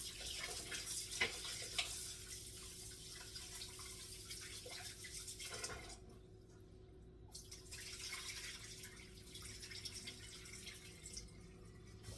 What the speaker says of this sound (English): Washing the rice, guys, at least 3 to 4 times, alright? Until you rinse it properly.